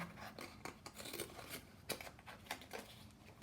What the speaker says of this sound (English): Now cardboard can be really stiff, so again, you may need help with some scissors